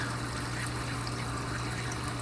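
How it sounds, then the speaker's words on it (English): Water trickling through a DIY aquarium trickle filter makes a steady, continuous splashing hiss with a constant low pump hum underneath, close and unchanging. "You can see the water trickling over everything."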